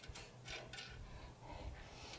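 A bolt being loosened with a ratcheting wrench during assembly of a Harbor Freight metal cutting bandsaw, several quick faint metallic clicks in bursts, close and quiet.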